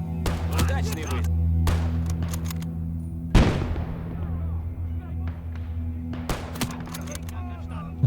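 Sniper rifle fire in the WWII video game Gates of Hell: Ostfront, with Soviet infantry: one sharp, loud crack followed by a trailing echo, then a second shot a few seconds later, over a constant low battlefield hum and a talking voice.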